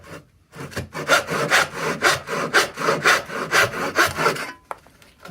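Hand saw cutting wood for a dovetail joint, about a dozen even rhythmic rasping strokes, close and clear, which start after a short pause and stop near the end.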